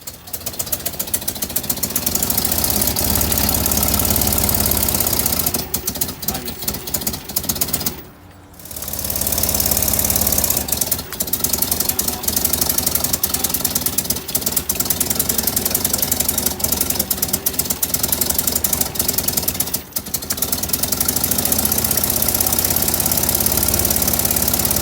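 A 1997 Toyota Land Cruiser engine, just repaired, runs steadily and loudly with a rough, knocking idle, briefly dropping out once before catching again and continuing.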